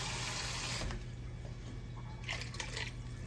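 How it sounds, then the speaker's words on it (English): Water poured into a pot of slow-braised beef short ribs, a soft running, splashing stream close by that swells in bursts near the end over a steady low background hum. "I'm gonna put a little bit more water in here."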